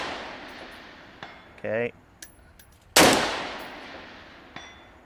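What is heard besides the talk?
gas gun shots fired through a small Ritec muzzle brake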